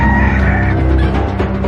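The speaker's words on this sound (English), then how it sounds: "their garden bordered a neighbour's yard that was overrun with chickens" Chickens in a neighbour's backyard cluck and squawk continuously over a dense, busy background, loud and close throughout the short stretch.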